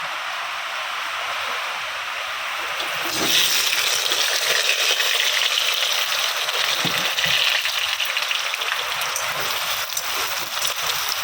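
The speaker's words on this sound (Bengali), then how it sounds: "আলু সয়াবিনটা ভেজে নিই।" A loud, steady sizzle of potato and soya chunks frying in oil that swells a few seconds in and keeps crackling evenly, close up.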